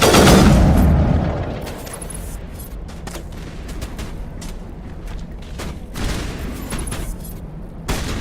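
Rockets slam down in Mass Effect combat, opening with a loud booming impact that fades into a steady battle rumble, sharp cracks punctuating it and another hit landing near the end.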